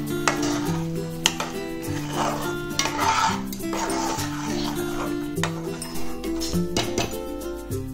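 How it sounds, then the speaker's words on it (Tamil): Small paneer pieces cook in butter masala gravy while being stirred, soft scraping and bubbling close by, with a voice talking over much of it. "பன்னீர் போட்டு 2 நிமிஷம் குக் பண்ணால் போதும்"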